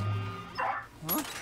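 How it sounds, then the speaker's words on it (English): A ghost dog in Luigi's Mansion 2 HD gives a few short yips and bow-wow barks, close and clear amid game effects, with a rising whine near the end. "Oh, the dog is still in there."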